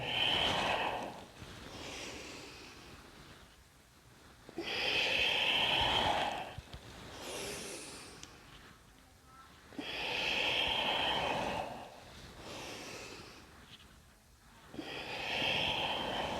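Slow, deep yoga breathing, long airy inhales and exhales alternating at an unhurried, regular pace, close and soft with no other sound.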